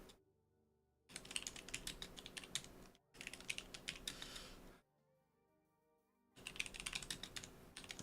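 Bursts of rapid typing on a computer keyboard are separated by quiet gaps, with dense, close clatter in three distinct runs and no speech.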